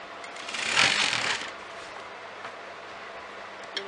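A sewing machine stitching a pleat on a kameez, a brief close whirring burst of needle motion that fades into quiet room tone with a faint click at the end.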